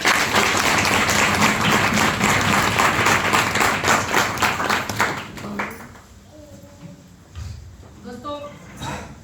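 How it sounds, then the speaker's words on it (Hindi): Loud, dense clapping fills a hall for an audience at a Hindi-language AWPL talk, holding steady for about five seconds before tapering into scattered claps and faint room noise. "आगे मैं चाहूंगी कि आप सभी के लिए एक जोरदार ताली हो जाए।"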